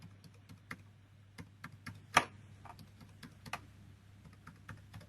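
Fingers tap out a credit card number on a computer keyboard, a quiet run of scattered, uneven keystrokes with one sharper louder clack midway, close and alone with no talk.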